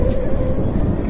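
An RTR radio-controlled car rips past close by at high speed on a range, its motor giving a loud, steady buzzing whine throughout with no pause.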